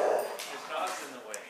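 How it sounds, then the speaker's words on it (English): Excited dogs barking and yipping close by, short bursts mixed with whimpers over a steady muffled background and overlapping human voices. "The dogs are really excited."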